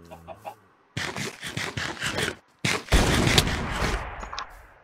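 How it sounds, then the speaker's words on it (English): Enemy mobs firing guns in a zombie shooter video game, with loud rapid bursts of gunfire broken by short gaps, ending in a sustained dense volley. "they're already shooting at me"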